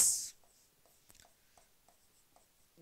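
Chalk or marker writing on a board during a physics lesson, faint taps and strokes spaced through the quiet after a brief louder rustle at the start.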